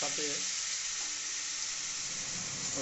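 Onion paste frying in hot oil for a yogurt katla fish curry, a dense, even sizzle that runs throughout at moderate level, close up with no voices.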